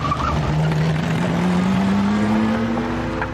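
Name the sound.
Lamborghini Miura engine driving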